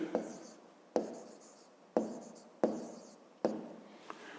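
Pen writing on paper while working a grade 5 math exercise: five distinct bursts of scratchy strokes, each starting with a sharp tap and trailing off, spaced about a second apart, close and fairly quiet.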